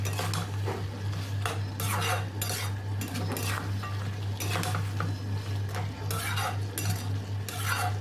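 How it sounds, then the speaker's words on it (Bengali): Chicken feet masala is stirred in a wok, with repeated metal scraping and clanking of a utensil against the pan over a constant low hum and faint sizzle. The scrapes come in irregular bursts and no one speaks. "এইভাবে আপনারা কষতে থাকবেন এটা যত ভালো কষা হবে তত কিন্তু টেস্টি হবে"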